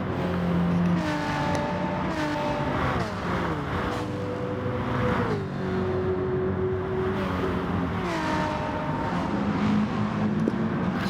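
Gr.4 race cars launching from the start at the Sardegna circuit in Gran Turismo, several engines revving and rising in pitch together through repeated gear changes, a close, continuous pack roar.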